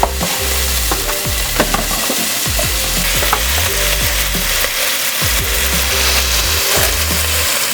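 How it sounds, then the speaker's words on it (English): Meat browning in a hot pan, a loud steady sizzle and crackle of frying with repeated scraping strokes of a utensil stirring, close up and without talk. "Got our meat browning off in the pan."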